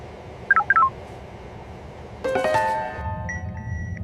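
A mobile phone keypad gives a few quick dialing tones in a short burst, then a louder electronic tone sequence, close and clear with no talk over it.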